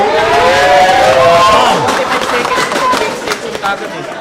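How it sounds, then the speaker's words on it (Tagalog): A crowd at a billiards match cheers for the Taguig Stallions, a loud burst of voices and shouts that fades over a few seconds, mixed with some nearby chatter. "And the crowd cheering for the Taguig Stallions."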